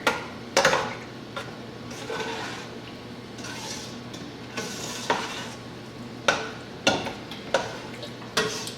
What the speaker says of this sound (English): now I'm going to mix this quite a bit